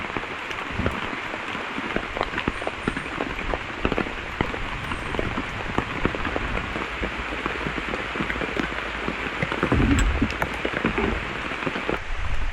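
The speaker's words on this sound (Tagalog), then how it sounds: "Pakinggan nyo lang yung tubig ulan." Steady rain falls at a forest moto campsite, pattering densely and close on surfaces with scattered heavier drips, and a low rumble swells briefly near the end.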